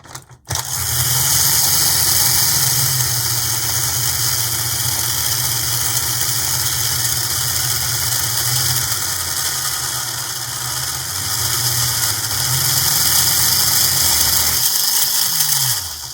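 An HO scale Lionel ALCO FA-1 model locomotive from a Freedom Train set runs continuously on test rollers, giving a loud steady motor whine and hum with a slowly wavering low drone.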